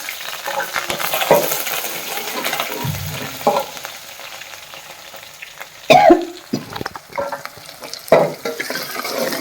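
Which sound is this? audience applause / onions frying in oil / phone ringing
onions frying in oil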